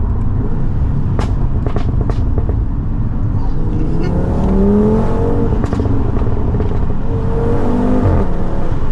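A 460 bhp Audi RS3 8P Stage 2 being driven, its five-cylinder engine and exhaust droning loudly from inside the cabin with a rising and falling pitch and crackling pops near the start, while a person talks over it.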